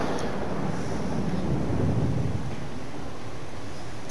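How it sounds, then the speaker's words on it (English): A waterfall rushes in the God of War video game, a steady, loud broadband roar with no breaks. "I like how there's a waterfall right there,"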